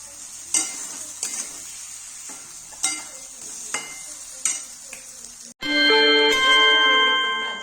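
Stuffed eggplant being stirred in a pan, with repeated scraping knocks of a spoon against the pan over a low sizzle, then a loud ringing metallic clatter near the end.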